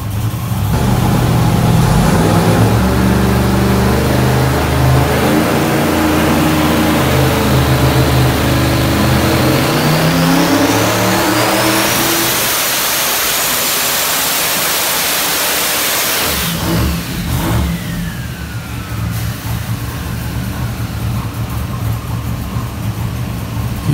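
A 540ci twin-turbo big-block Chevy race engine fed by two sets of 2200cc injectors revs loudly and repeatedly, climbing in pitch to a sustained high scream before dropping back to a rough, rumbling idle.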